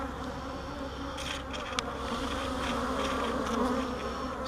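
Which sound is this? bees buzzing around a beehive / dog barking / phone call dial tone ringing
bees buzzing around a beehive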